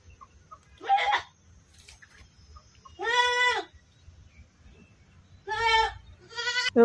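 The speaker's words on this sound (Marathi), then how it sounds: "हे बघा इकडे कोंबडे बघा, कोंबडा पाळलात त्यांनी. इकडे बकऱ्या पण आहेत." Goats and chickens in a village yard: a few separate bleats and clucks ring out loud and close, with quiet gaps of outdoor ambience between them.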